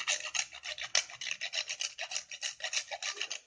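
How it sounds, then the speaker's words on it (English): Whole nutmeg scraped into powder on a grater for pumpkin bread makes a steady, rhythmic rasping, fast back-and-forth strokes heard close up and alone. "Then little bit of scraped nutmeg powder."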